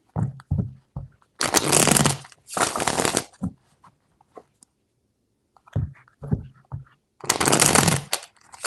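Tarot cards shuffled in several quick riffling bursts, crisp and close, separated by short pauses with light tapping and handling in between.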